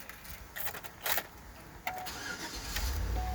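A 2013 Chevrolet Suburban starting up: brief starter cranking and a few clicks, then the engine catches and settles into a low, steady idle, heard fairly quietly from nearby.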